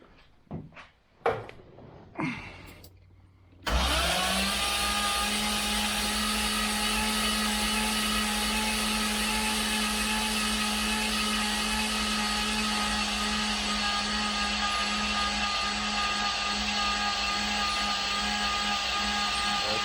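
A rebuilt engine with fresh oil gets a few clunking, stuttering cranks, then catches and settles into a loud, steady running drone that holds to the end, with no talking.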